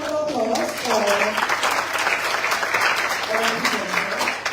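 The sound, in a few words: audience applause for presenters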